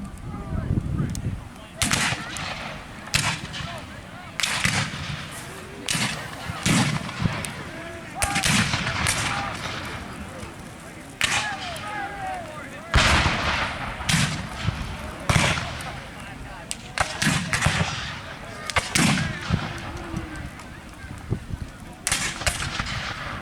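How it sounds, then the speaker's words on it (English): Cannons boom repeatedly at a Civil War reenactment battle in Jackson, a series of loud deep blasts mixed with rifle volleys, heard at a distance outdoors with people talking in the crowd between shots. "it looks like the artillery took out sections of the zouaves"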